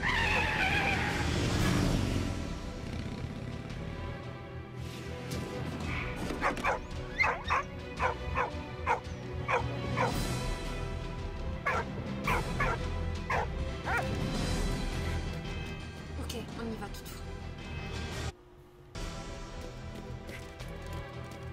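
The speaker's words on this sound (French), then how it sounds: "les chiens de guerre partagèrent le destin de nombreux soldats" War dogs in a Great War video game bark in a rapid series of sharp yaps, with whimpers and scuffling in between, set against a constant background rumble.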